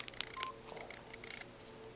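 Keypad tones from a Samsung T404 TracFone cell phone: a few short beeps in quick succession, faint and close.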